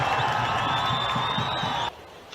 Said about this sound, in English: Haris Zaid comes to the rescue from loud cheers from the crowd.